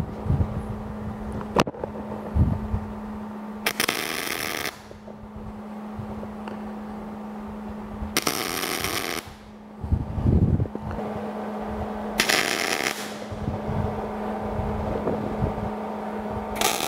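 Steel for a surface plate stand being tack welded: three separate bursts of harsh crackling, each lasting about a second, with quiet pauses and a low steady hum between them.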